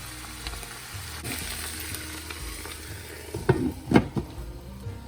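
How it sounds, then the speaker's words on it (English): Potatoes being stirred in a frying pan, a steady low sizzle throughout with a few louder scraping stirs toward the end, no voices. "Stir it all up, then put the lid on it"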